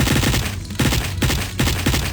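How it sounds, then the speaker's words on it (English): Dual machine guns in a Duke Nukem 64 mod of Duke Nukem 3D fire in dense, rapid bursts, loud and close, with brief pauses between volleys of overlapping gunfire. "This is the replacement for the chain gun cannon. It's the dual machine guns. Notice the spread."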